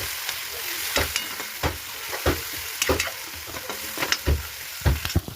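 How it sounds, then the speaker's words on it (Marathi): A paste of cumin, garlic, onion and green chili fries in hot oil for a gram-flour and fenugreek pitla, with a soft steady sizzle. Frequent sharp scrapes of a spoon stirring the pan sound close by. "आपलं जिरे, लसूण, कांदा आणि हिरव्या मिरच्याचं वाटण छानपैकी आता लाल लाल प्रकारचं भाजलेलं आहे"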